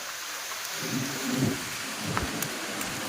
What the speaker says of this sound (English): Yes, it's starting to rain now.